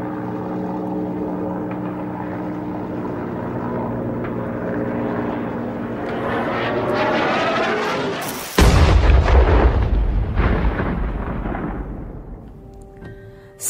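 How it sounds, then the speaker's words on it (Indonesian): Allied aircraft staging a 1945 air raid on Japanese weapons factories and war logistics centres: a steady, droning engine roar builds, then a sudden loud, booming blast-like burst that slowly fades. "Serangan itu dilakukan lewat jalur udara menggunakan pesawat."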